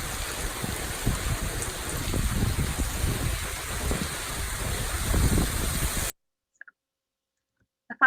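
Rain falling on a rain garden outdoors, a steady hiss of drops and trickling water for about six seconds before cutting out abruptly, followed by near silence and a couple of faint clicks.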